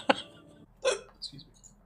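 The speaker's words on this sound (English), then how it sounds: "You got some hiccups, boy?" A man's hiccups, a few sharp abrupt gulps spaced unevenly over a couple of seconds, close and clear against a quiet indoor background.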